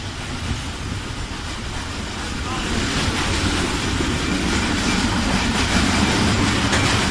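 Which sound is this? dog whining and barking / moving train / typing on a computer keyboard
moving train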